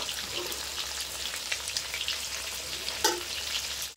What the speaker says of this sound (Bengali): আমি এইভাবে মাছগুলো কিন্তু কালিয়ার জন্য লাল লাল হালকা লাল লাল করে ভেজে নেব।